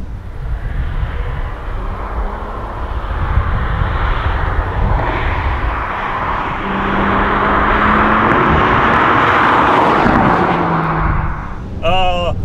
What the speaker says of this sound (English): I'm going to drop it down into fourth just to get a little bit more torque and a bit more in the power band coming out of this corner